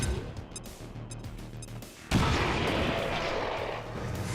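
Frag grenade explosion in XCOM 2, a sudden loud blast that breaks over quieter game ambience and then rolls on as a sustained rumbling roar, with no talking.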